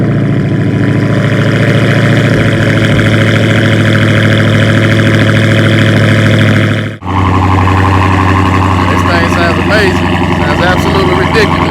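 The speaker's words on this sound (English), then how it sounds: "So we're about to do a cold start up" A 707-horsepower Dodge Challenger Hellcat with a supercharged V8 settles into a loud, steady, rumbling cold-start idle close to the microphone, with a brief dip partway through before the idle carries on.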